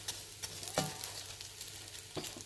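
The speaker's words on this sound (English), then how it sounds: "So basically just stir it, bring the bottom ones to the top and then the top ones to the bottom" Vermicelli browning in a pan, stirred from bottom to top, gives a soft, steady sizzle with a few light scrapes of the spoon, close up and with no talking.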